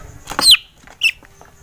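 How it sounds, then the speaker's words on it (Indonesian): A chicken with a cold gives two short, close clucking calls, the first louder and longer, a second brief one about half a second later, over a quiet background. "Oke, untuk ciri-ciri ayam yang pilek ya, coba pencet hidungnya Nando."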